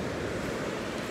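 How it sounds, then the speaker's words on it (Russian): Broad, rushing noise of rough sea surf and gusting wind on a seafront promenade in Liguria, Italy, steady and fairly soft, with no one talking. "Ветер не холодный, море красивое, хоть и сердитое"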